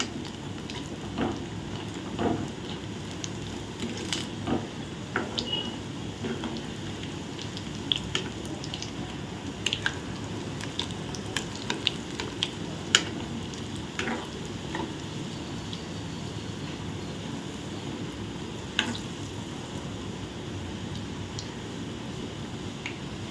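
Vadas frying in hot oil for vada curry, a steady low sizzle sprinkled with sharp crackles and pops at close range, with no talking.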